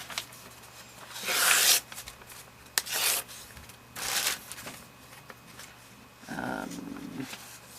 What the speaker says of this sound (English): I'm going to rip up some paper